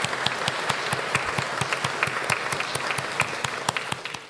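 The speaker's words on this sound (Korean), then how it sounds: "우리가 박수를 또 격려의 박수를 치도록 하겠습니다" Churchgoers at a Sunday service giving a round of applause, steady dense clapping throughout with sharp individual claps standing out, close and fairly loud before trailing off.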